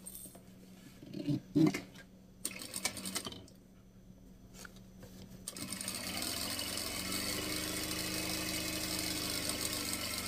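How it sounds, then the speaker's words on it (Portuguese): A sewing machine runs a straight seam along the edge of a fabric lining, starting after a few handling clicks and knocks, then a steady fast mechanical whirring hum that continues to the end. "E a gente passa uma costurinha reta, exatamente aqui na beiradinha"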